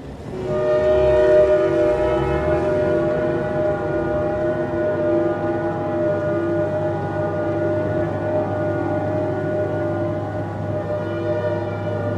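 A train at a railway station sounds a long, steady, loud horn-like tone that holds for over ten seconds over a low rumble, with no talking.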